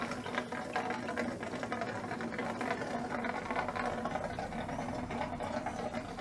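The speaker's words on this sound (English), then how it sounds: "You can just hear that, that's full pressure in that hose too." Water at full pressure pouring through a hose into a caravan tank, filling from the bottom, giving a steady, close, even rushing hiss with a slight rattle throughout and no voices.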